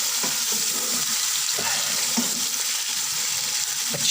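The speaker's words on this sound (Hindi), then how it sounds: "अब हम इसमें चिकन डालेंगे और चिकन अच्छी तरह से फ्राई करेंगे" Chicken frying in a pot for Eid biryani sizzles loudly and continuously, with repeated stirring scrapes and knocks from a spoon, close by and without speech.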